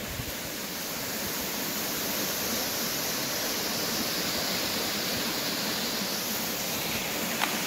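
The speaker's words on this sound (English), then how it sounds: "there's a big ass waterfall down there" A big waterfall, roughly 100 feet tall, roars as a continuous broad rushing wash heard from a distance along the Appalachian Trail, steady and unbroken with no talking.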